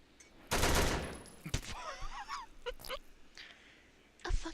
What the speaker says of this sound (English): A fucking drive-by shooting.